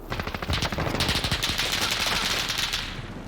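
Rapid automatic gunfire in the Call of Duty Warzone video game, a dense, continuous stream of close, loud shots lasting a few seconds before tapering slightly.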